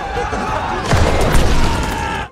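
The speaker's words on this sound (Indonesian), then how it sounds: "Alec yang mulai fokus berhasil mengarahkan tembakan dengan tepat, melumpuhkan satu tank musuh." A tank shot and gunfire in a war film battle scene, a heavy boom hitting mid-clip over a loud rumbling background mix, followed by sustained battle noise that cuts off abruptly.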